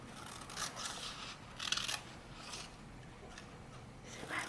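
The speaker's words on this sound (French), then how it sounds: "Ça va bien, hein, pour découper les feuilles vertes?" Scissors snipping green cardboard leaves for an Easter rabbit craft, a series of short, quiet cutting bursts spaced irregularly, close and alone.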